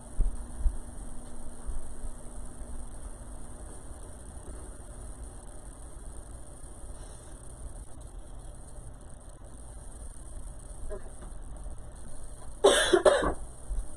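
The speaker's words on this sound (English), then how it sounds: "I need to blow my nose." A person with a lingering cold blows their nose once, a short loud honking burst near the end that follows a long stretch of quiet room noise.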